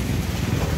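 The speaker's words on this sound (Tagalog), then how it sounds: "Grabe lakas ng ulan." Heavy rain pours over the Aklan River at the Kalibo Numancia Bridge, a dense, steady roar with a deep rumbling low end and no talking.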